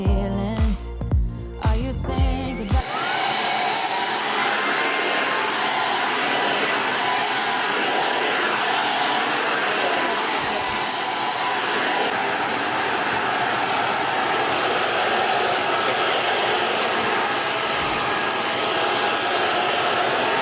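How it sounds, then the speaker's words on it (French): A cordless stick vacuum cleaner with a 350-watt motor whirs at a steady high-pitched roar, loud and close, after a few seconds of brief clattering at the start. "Il a un moteur de 350 watts, ce qui est très bien pour un aspirateur balai."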